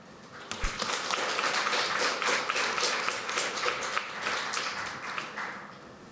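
A seated audience gives panelists a round of applause at a fair housing event, dense even clapping from many hands holding steady for several seconds, moderately distant with no voices.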